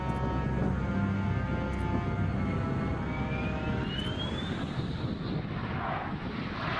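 A Saab Gripen E/F fighter jet roars past, a loud, dense engine rumble with a whining tone rising in pitch midway through.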